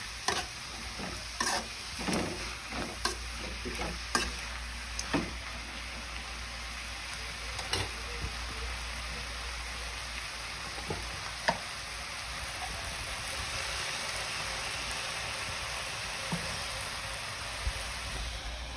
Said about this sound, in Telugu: దీనికి శనగబెల్లి కూడా యాడ్ చేసి మంచిగా ఫ్రై అయ్యేలా చూసుకోవాలి